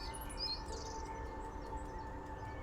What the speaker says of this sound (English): They're birds.